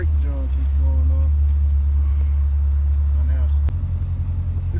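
A Chrysler 300 392 Scat Pack on its first drive, a deep steady engine rumble heard from inside the car, loud and constant, with voices talking over it.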